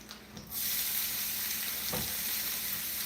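Chopped onion hits hot olive oil in a pan and breaks into a loud, steady sizzle after a brief quieter moment, with a faint stir partway through.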